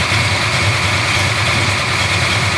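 A 1957 Chevrolet street rod with a full roller V8, dark heads, Edelbrock intake and Demon 750 carburetor idles loudly up close, a steady throbbing rumble with no voices.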